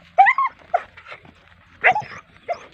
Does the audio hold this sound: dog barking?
yes